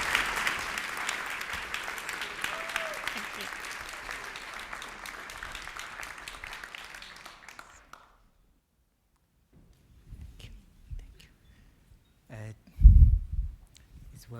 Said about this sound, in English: A warm round of applause for Dasho Karma.